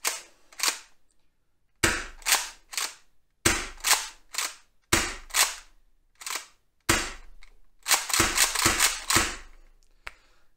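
An S&T M870 gas airsoft shotgun being racked and fired, giving sharp close clacks and pops in short bursts separated by brief silences, with a rapid cluster of clicks near the end.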